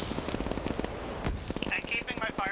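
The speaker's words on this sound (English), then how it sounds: "You see where those machine guns are firing with their tracers." Machine guns firing tracer rounds in a military video game, a rapid run of close sharp bursts and cracks, partly mixed with talking.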